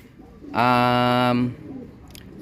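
A breeder pigeon gives one loud, near, drawn-out coo lasting about a second, followed by faint background rustle.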